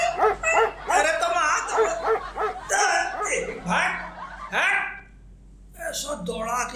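Several dogs bark and yip in quick, excited bursts, close and fairly loud, mixed with whimpers and a stretch of people talking, on a street with a chaat vendor.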